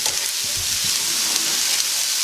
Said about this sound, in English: You lower the heat and you let those peppers cook.